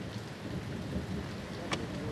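Torrential rain pours down steadily over an outdoor excavation at Richmond, Surrey, a dense, even hiss of drops with a brief sharper spatter near the end and no voices.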